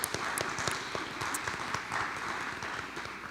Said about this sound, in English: join me in a round of applause for the Board of Education.